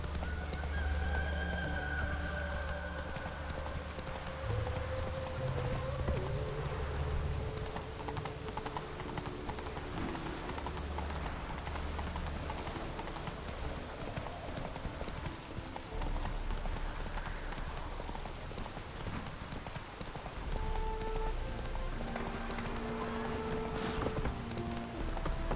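Rhythmic clip-clop of Roach the horse galloping through pouring rain in The Witcher 3, hooves thudding steadily over a constant patter of rain, with occasional whinnies and a quiet game music bed.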